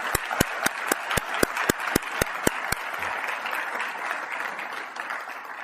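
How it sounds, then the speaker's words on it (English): Audience applause for the 2025 Teacher of the Year class at a school ceremony: one close, crisp clapper beats out a quick, even rhythm over the crowd, then a broad, steady roar of clapping continues. "Let's give all of them another round of applause."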